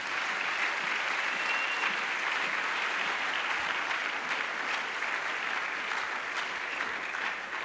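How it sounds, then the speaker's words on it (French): A congregation at a religious crusade gathering claps for the Lord in loud, sustained applause that fills the whole stretch with dense, continuous clapping. "Let's clap to the Lord"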